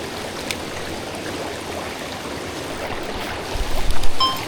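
Mountain river with a small waterfall and strong current: continuous broadband rushing water, fairly close and steady, with a few heavier splashes and gurgles swelling toward the end.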